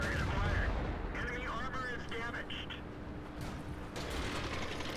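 Heavy booming tank cannon fire and rumbling battle noise from World of Tanks with a Tiger II on the Normandy map, dense and continuous, with someone talking over it.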